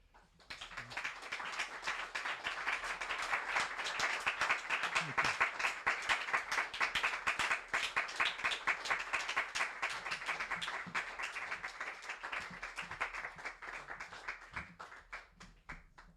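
An audience at a poetry reading claps for the two readers in a sustained, dense round of applause that swells early, holds steady, then thins and tapers off toward the end.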